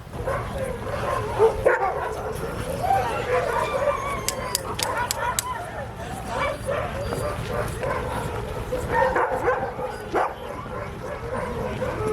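Sled dogs bark, yip and whimper in a dense, continuous chorus along a row of teams being geared up before a mail-run sled dog race, close and loud with overlapping yelps throughout.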